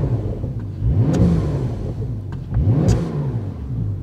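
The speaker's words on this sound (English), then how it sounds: "we also have the sound of the turbochargers" A 900-horsepower 2024 BRABUS Porsche 900R Rocket engine revs twice, each time rising and falling with a whooshing turbo spool and a whistle on top. Loud and close, rumbling steadily between the revs, with no talk.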